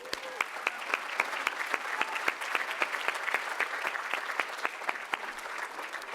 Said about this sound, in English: let's give a round of applause to Lauren for being a tremendous MC this evening